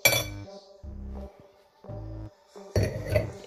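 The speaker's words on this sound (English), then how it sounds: "Finna get me a nice glass." Glassware clinks while a wine glass is fetched for tasting Stella Rosa wine at home, with several short bright clinks and knocks in separate bursts that are close, clear and sit alone with no talk.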